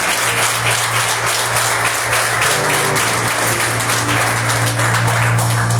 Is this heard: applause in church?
yes